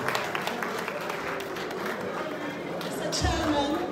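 Continued clapping from a crowd at an Akatakyie 70th anniversary event in the UK, welcoming a solicitors' firm sponsor; a sustained wash of applause with a voice rising over it near the end.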